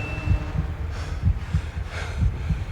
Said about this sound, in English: so many of the suspenseful scenes have this heartbeat sound effect that gets us used to hearing it anytime there's tension